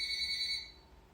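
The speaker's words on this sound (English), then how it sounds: "I just lost it because of the phone ringing." A phone ringing with a bright electronic two-tone chirp that sounds briefly, then cuts off and leaves faint room noise.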